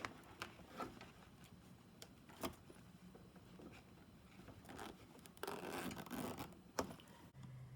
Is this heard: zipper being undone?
yes